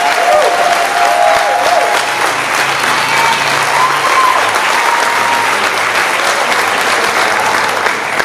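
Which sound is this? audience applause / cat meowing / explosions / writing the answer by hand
audience applause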